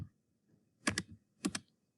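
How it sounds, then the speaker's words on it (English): Two short bursts of computer keyboard typing as an equation is entered into a graphing calculator, each a quick double cluster of key clicks, close and clear against a quiet room with no talking. "I'm going to type this exactly how it looks into Desmos."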